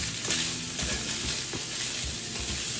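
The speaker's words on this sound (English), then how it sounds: "let's just get that pasta mixed in" Pasta being stirred into cheeseburger macaroni in a pan, a soft continuous sizzle with scraping stir strokes, close and fairly quiet, no talking.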